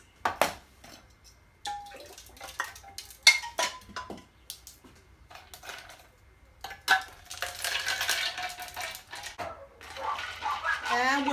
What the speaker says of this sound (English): ready to add my ice